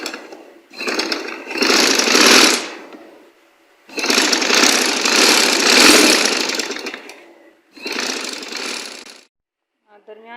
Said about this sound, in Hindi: हम यहाँ पर आहिस्ता आहिस्ता इसके ऊपर सिलाई की मदद से मशीन की मदद से सिलाई लगा लेंगे।